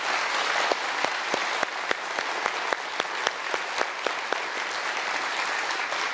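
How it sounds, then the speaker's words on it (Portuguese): Studio audience applause on a Brazilian music television show, a steady broadband wash of many hands with sharp individual claps standing out, sustained and even throughout without any talk over it. "Uma salva de palmas da Bahia."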